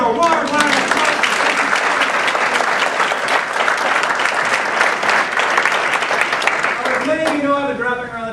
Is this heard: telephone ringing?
no